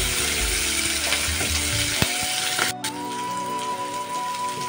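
Onion sizzling as it fries in a pan with green chillies for a fish and Malabar spinach curry, a steady close crackle with scattered pops, no talk.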